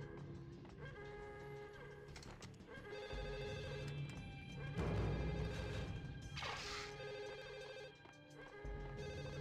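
Telephone ringing in the Max Payne video game, repeated electronic bell trills over a tense game soundscape with crashes and thuds scattered through.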